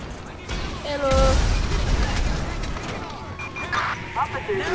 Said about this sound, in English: Officers report an explosion.